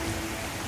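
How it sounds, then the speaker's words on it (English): A heavy mountain downpour in the Swiss Alps sounds as a short, dull wash of steady rain noise, fairly quiet and even, with no speech. "mega downpour has started"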